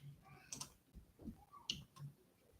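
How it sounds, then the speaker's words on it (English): Computer keyboard keys click in a few quick irregular taps, faint and close, with a couple of sharper clicks and no talking. "I can't even see what I'm typing"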